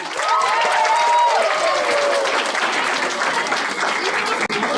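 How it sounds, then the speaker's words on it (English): An audience at a Republic Day celebration applauds a children's dance performance, a dense, loud sheet of clapping sustained from start to finish, with a few voices calling out near the beginning. "Have a big round of applause, please."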